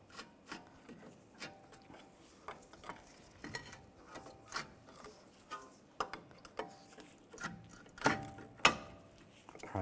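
Metal-on-metal prying and clunks as a pry bar works a front brake caliper loose on a 2004-2010 BMW X3, with irregular close knocks and scrapes that grow louder toward the end.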